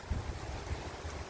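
Low, steady wind on an autumn morning rumbles and buffets the microphone, with no voices.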